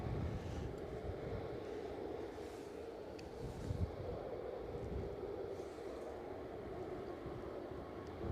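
An EasyJet airliner at Edinburgh airport gives a steady, distant low engine rumble that holds for several seconds amid strong gusting wind, with no voices.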